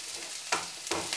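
Garlic and vegetables sautéing in cooking oil for an Indomie noodle dish: a faint background sizzle broken by two short bursts of louder frying as the pan is stirred.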